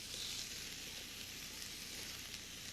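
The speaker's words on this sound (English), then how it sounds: "I'll put that in the pan now, and while that's cooking, I'll whip up a sauce for us." Sliced beef short rib sizzles steadily in an electric frying pan with a little of its own fat, a continuous broadband frying hiss at low level with no talk.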